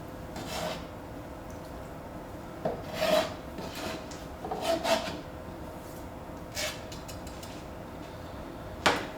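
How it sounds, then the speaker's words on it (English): Ingredients scraped and scooped into a bowl and stirred together in a home kitchen while making dips, giving intermittent rasping, rubbing scrapes in short bursts with quiet pauses between. "I'm going to scoop those up and put them in the bowl to mix up"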